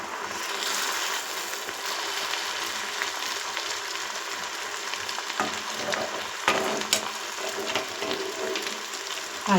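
Rose cookie batter frying in hot oil, heard as a steady, loud sizzle and bubbling that runs unbroken throughout, with faint clinks near the end.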